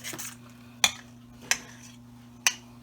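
A fork whisks an egg mixture in a bowl, giving three sharp, separate metallic taps against the bowl close by over a low steady hum, with no talk.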